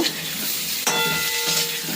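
Vegetable stalks fry in hot oil in a pan, giving a steady, close sizzle with a brief clatter partway through, then continuous crackling.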